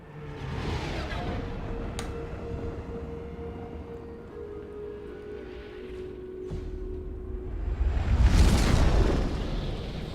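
Hover tank combat in Mass Effect 2, with a steady hum and whine from the tank, sharp clicks, and a heavy booming explosion building near the end, loud and close.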